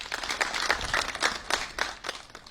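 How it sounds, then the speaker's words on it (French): Applause at a Benin medical facility during the coronavirus epidemic as the health minister cheers medical staff, scattered individual claps with an irregular rhythm, fairly close and moderate in level, no speech. "Elle reçoit les applaudissements du ministre de la Santé"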